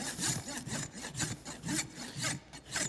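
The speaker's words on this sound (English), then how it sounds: "take a rasp, and you can just kind of gently rasp the heads of the clinch off" A farrier's rasp files the nail clinches on a horse's hoof before a shoe is pulled, close rhythmic back-and-forth scraping strokes at an even pace, about two strokes per second, with no talking.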